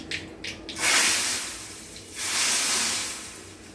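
Two loud, hissing sizzles, the first longer, as hot tempering with turmeric hits boiled saar curry, each burst fading off gradually, with a few soft clinks before.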